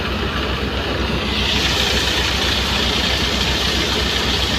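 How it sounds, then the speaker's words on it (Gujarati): A tractor-driven thresher runs steadily while threshing millet outdoors. Its engine drones in a constant, loud, low hum with a mechanical whir that does not change rhythm for the whole span. "અને હલર ચાલુ है"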